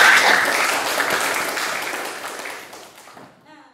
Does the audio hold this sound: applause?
yes